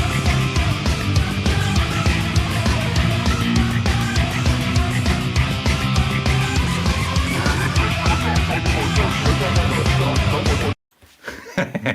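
Dense, loud instrumental tune in a despairing mood, with busy rhythmic layers throughout, then an abrupt cut near the end followed by a brief faint fragment.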